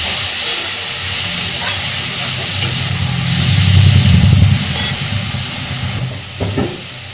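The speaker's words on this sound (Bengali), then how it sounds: "চিংড়ি মাছটা দেওয়ার পরে খুব ভালোভাবে একটু ভেজে নেব পেঁয়াজটাকে" Shrimp and onion fry in a pan with a loud, steady hiss and sizzle that swells in the middle, with a few clinks near the end.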